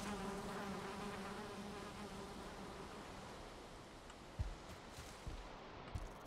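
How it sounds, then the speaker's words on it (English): Bees in Valheim swarm around a beehive, a steady dense insect buzz filling the whole clip, with a few brief thuds toward the end. "Oh, we got a bee's nest."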